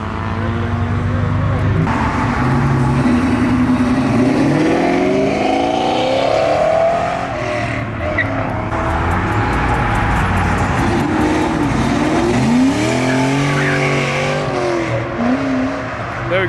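A Ford Mustang at a car meet revs hard and skids, with loud, sustained engine roar, rising pitch sweeps and tire noise, while a crowd talks and shouts throughout.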